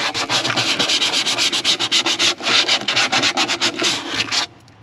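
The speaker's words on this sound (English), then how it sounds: "use alcohol if you have it, and then sandpaper it, wipe it down again" Sandpaper rubbed by hand across a stock tank's surface to prep it for marine putty, a steady run of close, loud back-and-forth scratching strokes that stops abruptly near the end.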